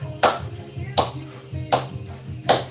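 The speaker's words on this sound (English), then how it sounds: "Let's clap along, yeah." Four crisp, evenly spaced claps keep time with a song during a workout, each one loud and close against faint background music.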